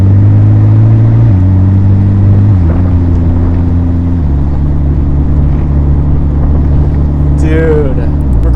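A McLaren fitted with a swapped-in engine bought on eBay, on its first road drive, cruises down a street at about 31 mph with a steady, loud, low engine drone that shifts pitch slightly a few times.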